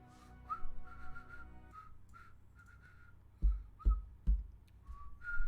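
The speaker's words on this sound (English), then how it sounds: "Don't whistle while on stream." A person whistles a melodic tune in short phrases with pauses, mixed with a low hum and a few heavy thumps, during Lord of the Rings Online gameplay.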